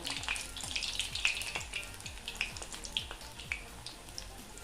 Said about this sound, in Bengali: ঠিক সেভাবে ভেজে নেব, হালকা করে ভেজে নেব।